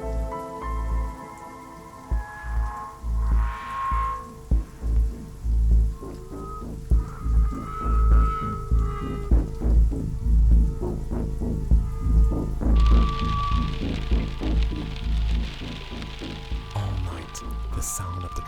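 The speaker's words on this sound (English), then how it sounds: "The sound of the drops, once a lullaby, has lost its soothing touch." Raindrops fall in a cold, foggy forest setting, scattered irregular drips and taps over a soft rainy background, with speech-like sounds mixed in.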